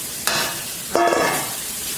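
Garlic sizzles in a hot pan, a bright hiss that bursts up twice as it hits the heat and then holds steady, close and fairly loud with no talking.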